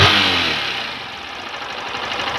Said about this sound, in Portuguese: Ó a zoada do motor.